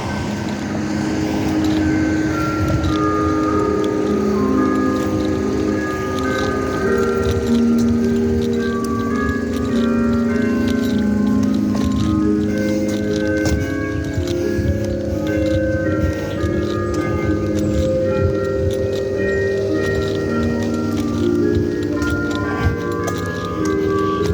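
Loud, sustained clanging of large bells ringing out together, overlapping tones washing over a busy background rumble for a long stretch.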